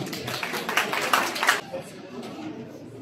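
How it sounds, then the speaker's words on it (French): Audience clapping at the inauguration of a BYD car dealership showroom in Paris, a dense burst of applause lasting about a second and a half before fading into room murmur and voices. "Applaudissez-vous, s'il vous plaît"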